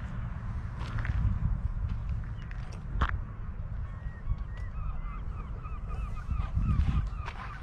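Seagulls cry over the clifftop seaside town of Le Tréport, a scatter of distant squawks and calls over a steady background rumble, with a sharp nearby click or slap at one point.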